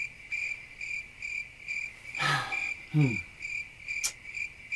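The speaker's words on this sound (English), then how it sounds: "Crickets. That's all I hear." Crickets chirp in a steady, regular pulse, with a couple of brief swooshing noises passing through.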